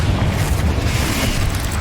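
Explosive spell blasts from Hogwarts Legacy on PS5, heard as a dense, sustained low booming roar with no clear gaps, loud and close throughout the short stretch.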